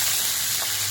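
Green chillies and black cumin fry in hot oil with a steady, close, bright sizzle that fills the short moment without any talk.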